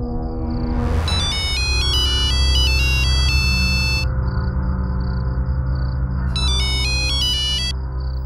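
An electronic ringtone chimes in a repeating melodic pattern, pausing briefly before ringing again, heard clearly over a low steady background hum.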